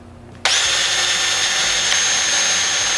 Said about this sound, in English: And that drills your pilot holes for the hinge.